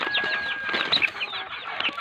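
A native chicken clucks in quick, close, choppy bursts, with a few brighter squawks mixed in over about two seconds.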